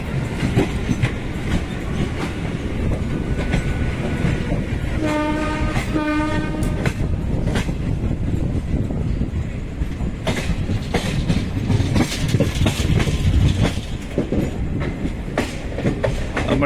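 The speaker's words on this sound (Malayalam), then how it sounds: "ക്രോസിങ്ങിനെ നിർത്തി ട്രെയിൻ ഇപ്പോൾ എടുത്തു" A passenger train near Kalyan Junction, on a run from Panvel toward Jabalpur, pulls away after halting at a crossing. A loud, steady rumble carries a brief two-note horn midway, and wheels click over the rails throughout.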